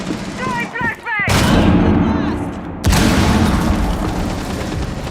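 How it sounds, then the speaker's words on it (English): A flashbang grenade goes off in a video game, with sharp loud bangs and a sustained ringing blast, and brief game sounds before it. "Throwing flashbang!"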